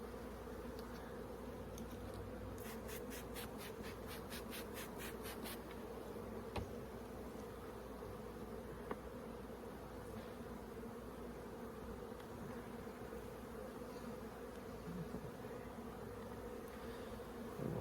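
Honey bees buzz steadily around an opened backyard beehive, a dense, continuous drone with a few louder individual bees passing close, alongside faint clicks of wooden frames being handled, and no talking.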